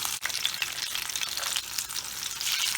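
Rock fish frying in oil in a pan, giving a steady, bright hiss and crackle of sizzling that holds throughout and grows slightly louder toward the end, with no talk over it.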